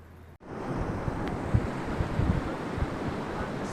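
Bear Creek flowing beside a hiking trail, a steady broadband rush of moving water mixed with wind buffeting the microphone, close and continuous after a brief dropout at the start.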